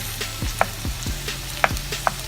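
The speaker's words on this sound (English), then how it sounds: "You can see those onions caramelizing, that pepper sweating, and those nice brown sausages." Onions, pepper and sausages fry in a pan for a stew: a constant soft sizzle close up, broken by a few sharp clinks and scrapes of a utensil stirring the pan.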